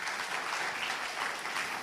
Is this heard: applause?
yes